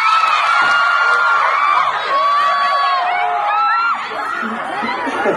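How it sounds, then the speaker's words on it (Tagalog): A large crowd at a political rally caravan cheers, whoops and shouts loudly and continuously, with high excited voices rising and falling throughout. "mas malakas yung hiyaw yata pag napanggit ko yung pangalan ng anak ko"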